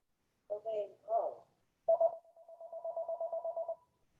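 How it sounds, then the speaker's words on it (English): A mobile phone goes off in the audience at a lecture, a few short electronic tones followed by a quick pulsing ring, faint and somewhat distant in an otherwise quiet room. "Somebody has the phone ringing."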